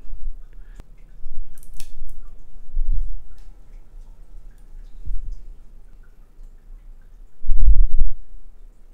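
Scissors snip a slit in material for bagging pepper flowers during seed saving. A few quiet, close snips and faint clicks come over low room noise, with no talking.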